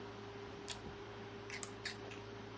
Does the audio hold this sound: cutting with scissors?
yes